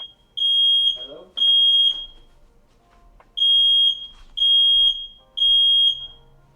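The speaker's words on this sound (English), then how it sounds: "It was a false alarm." A smoke alarm, here a false alarm, sounds in five loud, piercing high beeps, each about half a second long, in an uneven rhythm. Faint voices are audible in the gaps between beeps.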